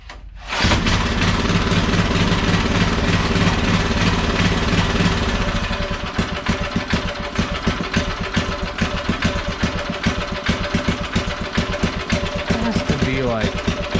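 5 HP Briggs and Stratton small engine with a stuck valve, starting with a loud steady roar before settling into a slow, uneven chugging idle of rapid close pulses that runs to the end.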